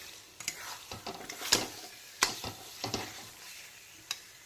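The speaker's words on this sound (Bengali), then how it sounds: "এখন চিকেনের টুকরোগুলোকেও ভালো করে কষিয়ে নেব মশলার সঙ্গে" Chicken pieces cooked down with spices in a pan: quiet background frying under a series of distinct spatula scrapes and metallic clinks against the pan, spaced irregularly.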